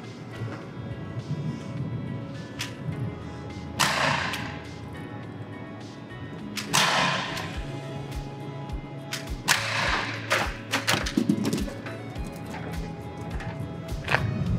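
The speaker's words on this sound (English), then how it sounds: "Now we have this Valken TR50 50 cal paintball pistol." Shots from a Valken TR50 .50 caliber paintball pistol striking a visored target dummy: several sharp, snapping impacts at irregular intervals over a low background hum, fairly close, with no talking.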